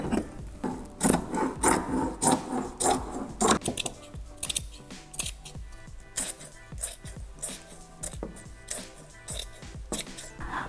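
Scissors snip through excess upholstery fabric on a bench in a series of crisp, rhythmic cuts, close by, with rustling of cloth between strokes.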